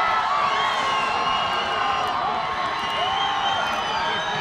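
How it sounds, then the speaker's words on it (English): Crowd at a high school football championship final against Longmeadow roaring at kickoff, a steady, loud blanket of cheering and whoops with sharp claps poking through. "The crowd is roaring."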